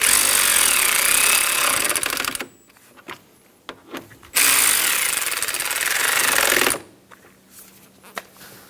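Two loud bursts of a rattling power tool driving bolts on an AC condenser cooling fan of a 2010-2014 Subaru Outback 2.5L H4, each lasting a few seconds, separated by quiet clicks and handling noises.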